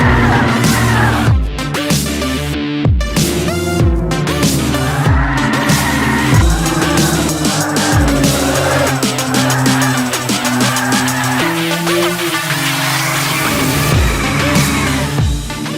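Tires squeal repeatedly as cars drift sideways through corners in the racing game Inertial Drift, engine drone rising and falling beneath bright, wavering screeches, loud and continuous over game music.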